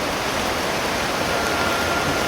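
Heavy rain pouring down in a dense, steady hiss that fills the whole space evenly and loudly, with no voices heard.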